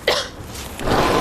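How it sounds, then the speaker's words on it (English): A single short, harsh cough from a woman in a cough-syrup commercial, close and loud, followed by a brief breathy sound. "that cough looks pretty bad"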